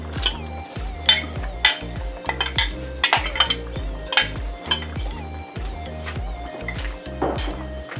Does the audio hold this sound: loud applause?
no